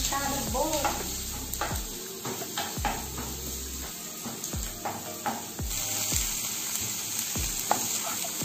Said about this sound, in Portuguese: E primeiramente eu vou estar colocando a cebola para dar uma fritadinha.